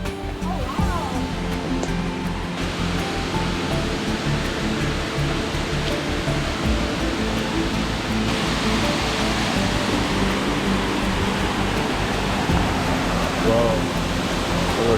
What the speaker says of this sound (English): So we're officially at the top of the waterfall.